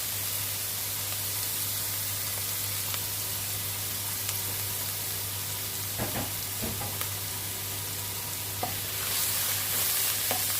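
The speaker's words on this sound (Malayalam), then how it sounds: "ഇതൊന്ന് വാടി വരണം നന്നായി വഴറ്റിയെടുക്കണം" Ginger, garlic and bird's eye chili sauté in a pan for a Kerala-style salmon curry, giving a steady, even sizzle with a few soft stirring clicks near the middle and end, and no talk.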